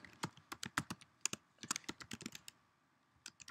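Fingers type on a computer keyboard in a quiet room, a quick irregular run of close, crisp key clicks that pauses briefly and then resumes, with no talk.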